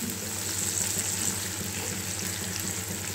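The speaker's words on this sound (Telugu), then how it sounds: "ఇలా పల్లీలు, కరివేపాకు, బెండకాయ ముక్కలు కలిసేలా కలిపేసుకుందాం." Okra pieces, peanuts and curry leaves being stir-fried together in a pan for a restaurant-style okra fry. A faint, steady sizzle with soft stirring runs under a low background hum.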